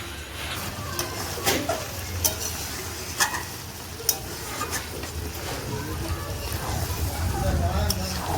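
Chicken curry with ground spice paste sautéing in a pan, covered again and again while it cooks down: a steady low sizzle broken by scattered sharp clicks and knocks of stirring.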